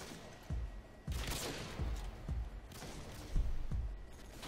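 Sniper rifle shots fired rapidly in quickscoping play in a first-person shooter, a series of sharp, close bangs about every half second to second, each with a low thump, over steady game background noise.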